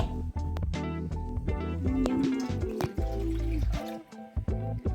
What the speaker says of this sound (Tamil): தண்ணி ஏன் ஊற்றுறீங்க?